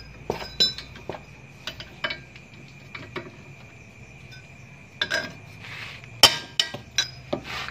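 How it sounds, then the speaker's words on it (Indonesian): A 17 mm socket wrench working stiff brake disc bolts on a motorcycle in a workshop, sharp metallic clinks and knocks scattered irregularly, some loud and close, with quieter ticking in between. "Saya pergunakan kunci shock 17 ya."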